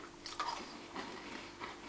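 Biting into a dry, crunchy Lotte snack bun with a milky filling, close and fairly quiet, with a few short crunchy bites spread over two seconds.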